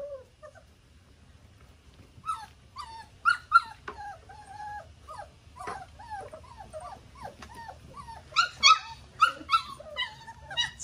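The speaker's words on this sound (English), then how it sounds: "in a group of puppies like this, it's not uncommon for them to yip" A litter of puppies gives high, scattered yips and whimpers. The calls come in irregular bursts, fairly close, and build into a busier cluster near the end. Nobody talks.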